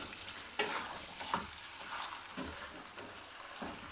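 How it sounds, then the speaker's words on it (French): A pot of West African chicken yassa is stirred, giving soft scraping and gentle sizzling with a few sharper clinks of the spoon against the pot, fairly quiet and without voices. "Tu es en train de mélanger."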